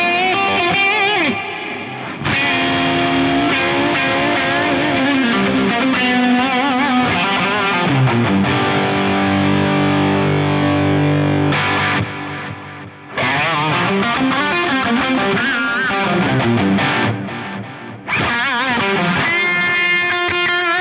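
An electric guitar plays through a Strymon DIG digital delay plugin in a DAW, with sustained, distorted chords and notes whose repeating echoes trail and overlap, loud and continuous with brief dips.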